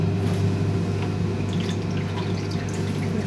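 Acid drips back off an etching plate in a printmaking studio, a faint, steady trickle of liquid over a constant low hum, with soft scattered drip ticks and no talking.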